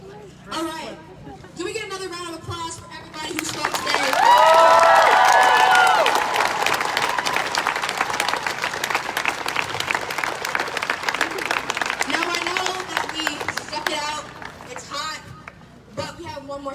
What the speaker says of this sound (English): Can we get another round of applause for everybody who spoke today?